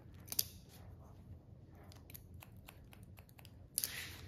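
Scissors snip at hair during a pixie cut, two crisp close cuts about three seconds apart over a faint background hiss.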